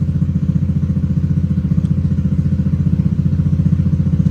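Bore-up automatic scooter engine after ECU tuning, running near and loud with a rough, pulsing beat, the throttle lifting it slightly while it sounds close to stalling.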